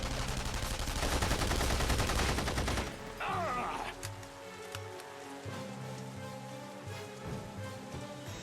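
Scoped carbine firing in the video game The Saboteur: a rapid burst of shots for the first few seconds, then quieter game ambience with music and scattered sounds.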